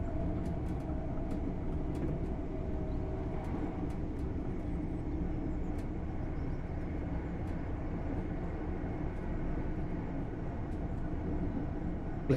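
Steady low rumble of trains rolling past in Train Sim World 4 on the East Coast Main Line, a continuous drone with faint high clicks scattered over it. No one speaks.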